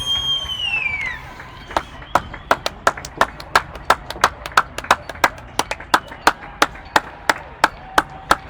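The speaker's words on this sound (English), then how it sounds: "the whole of London is clapping" Crowds across London clap for the NHS, with a steady rhythm of sharp, echoing claps ringing out between buildings after a fading whistle, loud and close with distant clapping behind.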